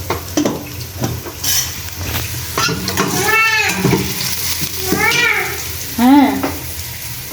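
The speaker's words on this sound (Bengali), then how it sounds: "আর এদিক দিয়ে মাছ ভাজবো" Fish coated with turmeric, chili and salt frying in a pan in a home kitchen, a steady close sizzle with occasional utensil clatter, under a voice speaking.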